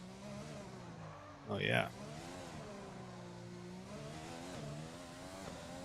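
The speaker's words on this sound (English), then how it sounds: "I like the sound of this car." An F1 car engine in the video game F1 2020 whines and revs, its pitch climbing and dropping through gear changes, with a short exclamation from a voice over it.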